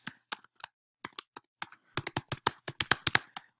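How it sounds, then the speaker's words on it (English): Someone types on a computer keyboard up close, a run of sharp, uneven key clicks that start sparse and then turn into a quick, busy burst, with no talk. "So you'll have to pardon my typing as we go along here."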